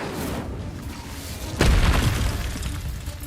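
Incendio fire spell blast from a Hogwarts wizarding video game: a sudden loud boom bursts out midway over a rumbling background, then fades into a crackling roar.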